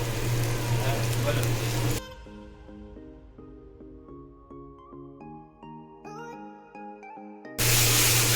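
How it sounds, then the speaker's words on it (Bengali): Spices and cumin powder fry in oil for a prawn malai curry, a loud close sizzle at the start that breaks off into a stretch of gentle tonal music before the crackling returns at the end. "মশলা ভাজা হয়ে গেছে দেখেন তেল ছেড়ে দিয়েছে"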